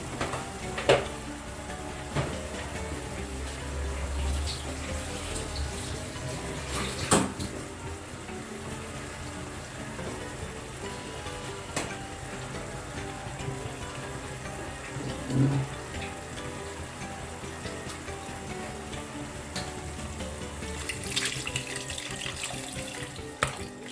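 Water pours steadily into a pot for home-cooked rasam, a continuous close splashing rush lasting throughout, with a few faint clinks and no talking.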